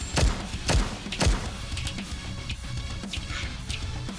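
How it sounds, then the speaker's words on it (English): Gunfire in the video game Goddess of Victory: NIKKE: three sharp, heavy shots land in quick succession, each with a deep thud, then a low rumble of scene effects lingers. "Gunshots ring out one after another."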